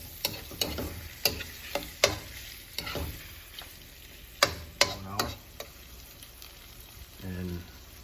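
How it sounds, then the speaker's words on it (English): Egg tossed with shrimp and garlic in a hot pan for pad thai, with a scattering of sharp spatula scrapes and clacks over a soft sizzle, some close and loud, without speech. "you could actually start mixing it entirely with the shrimp and the garlic"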